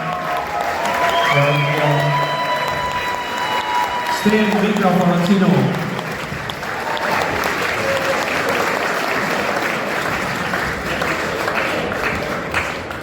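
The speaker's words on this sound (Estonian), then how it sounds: "Tehke talle üks väga suur aplaus." Audience applause at a live show, a steady wash of clapping that fills the room throughout, with a voice speaking over it in the first half.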